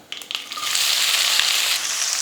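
Chopped big onion and curry leaves sautéing in a hot pan with fried lentils for onion rice, a few sharp crackles at the start giving way to a steady, loud sizzle.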